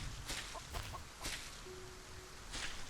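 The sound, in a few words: chicken clucking in video game Solar Punk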